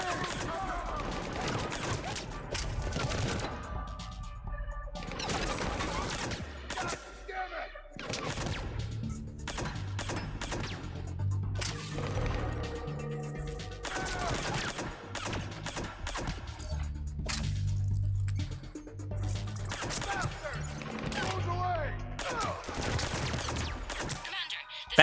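Bursts of gunfire from a gun loaded with cryo ammo in Mass Effect, repeated volleys of sharp shots broken by short pauses across the stretch, with someone speaking between some of them.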